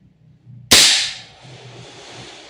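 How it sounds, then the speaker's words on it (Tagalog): A Redmantoys Edition BCM MCMR MK2 14.5 airsoft gas blowback rifle fires a single sharp, loud shot that cracks suddenly and then decays into a fading hiss. "Firing."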